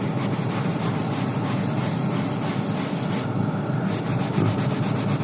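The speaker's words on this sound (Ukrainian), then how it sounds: "Зараз спробуємо ми його відмити." Steady, close scrubbing of a stain on a ceiling, a continuous rough rubbing that barely changes in level for the whole stretch, with no voices.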